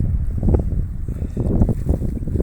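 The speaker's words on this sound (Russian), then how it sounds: "Ветер, оказывается, не стих." Strong wind buffeting the microphone on a small boat stopped on open water, a loud rumbling roar of gusts that rises and falls continuously, close and harsh, with no speech.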